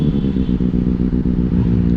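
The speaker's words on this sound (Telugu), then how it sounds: "సౌండ్లో మనది ఇక లయన్ రోర్ తెలుసు కదా మీకు, బెనీల సౌండ్ అంటే ఎట్లుంటుందో" A Benelli 600i motorcycle engine rumbles close by with a steady, deep, pulsing throb during a night ride, holding an even level for two seconds with no voices.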